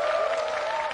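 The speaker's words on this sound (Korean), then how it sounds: "이렇게 뜨거운 박수를 보내주셔가지고 제가 살짝 긴장됐던 마음이 다 풀렸습니다" A talk-show crowd keeps up hearty applause for a guest speaker, a thick continuous rattle of clapping hands sustained evenly throughout.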